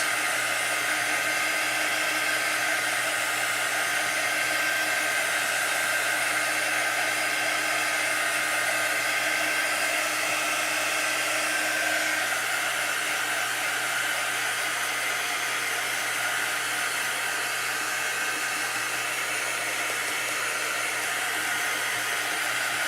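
Hair dryer blowing over chalk paste on chalk suede, a loud constant whir with a steady hum running unbroken throughout, no talking.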